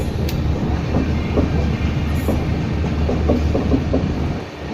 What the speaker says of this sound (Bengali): নিউ ফারাক্কা জংশন থেকে গাড়ি ছেড়ে দিল, এখন এগিয়ে যাচ্ছে গাড়ি